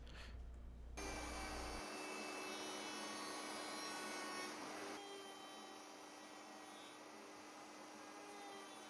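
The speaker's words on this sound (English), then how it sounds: "take it over to the router table and just use a pattern bit to kind of clean up those edges" A router table with a pattern bit trims the edges of a wooden guitar neck, giving a steady, loud, high-pitched whine and rough cutting noise, with a brief low thump at the start.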